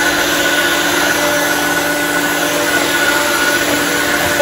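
Osotek vacuum cleaner running in turbo mode, a loud, steady, continuous whine and rush of air that holds without a break throughout.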